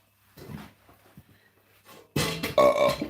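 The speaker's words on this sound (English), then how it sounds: "Oh, that was another burp." A loud, close burp from a man eating pie, coming after a stretch of quieter talk and rumbling. It is a single long, gravelly eructation that lasts about a second and dominates the end of the clip.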